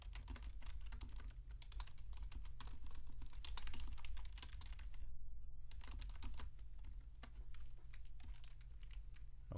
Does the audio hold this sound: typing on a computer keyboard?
yes